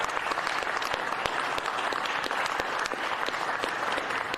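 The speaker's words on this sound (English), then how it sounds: "Would you give them a round of applause?" Audience of finance staff and officials at a county bond rating announcement breaks into steady, dense applause, a continuous patter of many hands clapping for several seconds.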